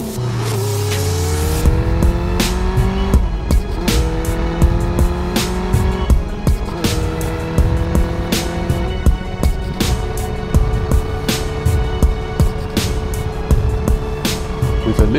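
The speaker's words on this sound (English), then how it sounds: "I really enjoy riding it, mainly because of its tiny, agile and air-cooled engine, as well as the 6-gear transmission" A 1979 Kawasaki Z500 motorcycle with an air-cooled engine and six-speed gearbox revs high while riding on the road, pitch climbing through repeated gear changes, loud and close, with no talking.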